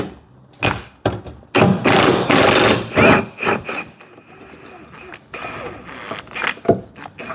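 An impact gun fitted with a 15mm socket on an extension hammers at a rear axle bolt on an MK7 Ford Fiesta, loud close bursts of rattling impacts broken by short pauses and clanks.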